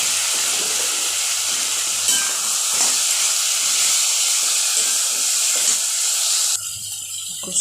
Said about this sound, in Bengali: তারপরে একটুখানি অল্প সামান্য জল দেবো